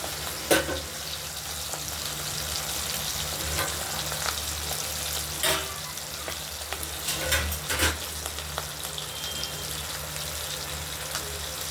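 Pabda fish frying in hot oil for a home-cooked fish curry, a steady crackling sizzle with intermittent louder pops and spatters, close by and continuous with no talking.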